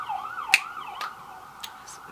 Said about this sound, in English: Sirens.